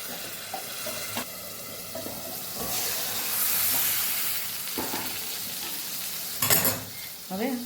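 Stuffed okra sizzles in oil in a kadai, a constant frying hiss broken by scraping stir strokes and clinks of the spoon, with brief faint bits of speech nearby.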